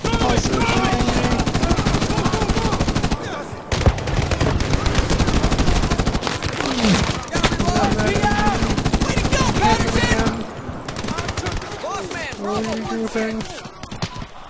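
Sustained enemy gunfire in the 2010 Medal of Honor video game, rapid automatic bursts crackling almost continuously at close range, briefly pausing twice, with a player's voice and game dialogue mixed in.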